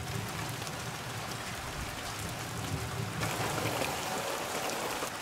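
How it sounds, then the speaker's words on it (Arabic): Steady rain falls in a rural setting, a dense, even hiss of drops on surfaces that continues unbroken throughout, fairly close and alone with no voices. "نزول المطر يعطي أجواء خاصة من الحميمية وينعش النفوس"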